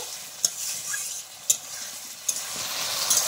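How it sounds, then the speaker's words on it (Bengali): Fried pointed gourd pieces get stirred into spice paste in a pan for a light rohu fish curry with potatoes, a steady sizzle punctuated by a few sharp spatula clacks against the pan. "পটলগুলো দিয়ে আর একটু কষিয়ে নেব।"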